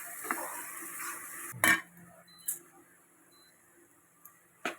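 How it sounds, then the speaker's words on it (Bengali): Masala and tomato being sautéed in a pan, a soft low sizzle with a few sharp scrapes and clinks of a spoon against the pan, fairly quiet and close, with no talking. "এবার একটু কষানো হোক"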